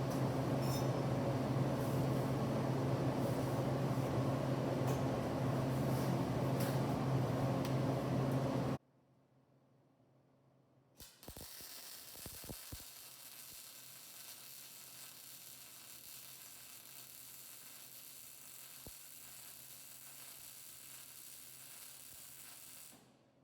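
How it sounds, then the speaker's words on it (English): A MIG welder runs a straight bead, giving a loud steady crackling sizzle for several seconds that cuts off abruptly, followed by quieter scattered clicks and faint low hum. "I'm just going to weld a straight line so you can see a weld."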